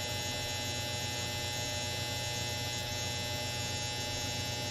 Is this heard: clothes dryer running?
yes